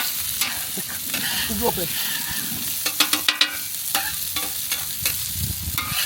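Metal scraper rasping across a hot barbecue griddle outdoors, repeated scrapes over a steady sizzle with a quick burst of sharp clicks midway, a brief word spoken near the end.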